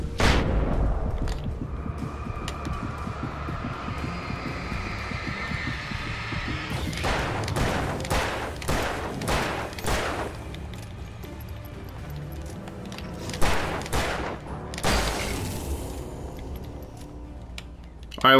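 Gunfire in the video game Alan Wake Remastered, Nightmare Mode at the train depot: a run of sharp shots in quick succession, then a couple more bursts, over steady game ambience and music.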